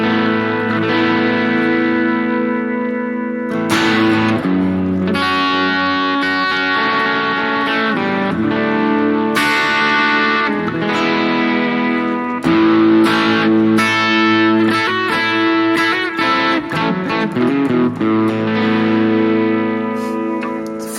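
Harley Benton Fusion electric guitar played through a light crunch tone, strummed chords and picked notes ringing steadily and loudly with mild distortion, no talking.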